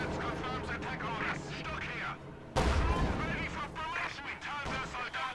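Mortar and gunfire in the strategy game Company of Heroes 2 rumble under a talking voice, with a heavy blast landing sharply midway and battle noise continuing after it.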